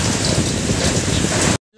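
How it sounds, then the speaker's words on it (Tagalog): Heavy typhoon rain pours down in a dense, steady roar with gusting wind mixed in, loud and close throughout before cutting off abruptly near the end. "Bagyo gid ni ba"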